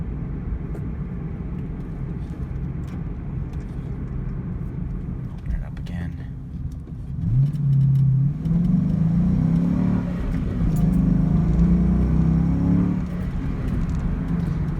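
A 2001 Ford Mustang Bullitt cruises on the highway in fifth gear, its engine a steady low drone with road rumble that swells slightly midway. Someone talks over it throughout.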